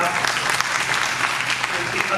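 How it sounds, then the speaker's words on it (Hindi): Audience at a Hindi literary festival book launch claps steadily throughout, a dense continuous applause filling the room. "इसके लिए हम लोग ताली बजा"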